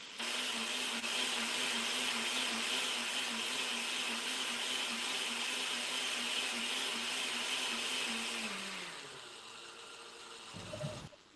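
A kitchen blender whirs steadily at high speed for about eight seconds, loud and close, then slows and winds down, ending with a brief clatter.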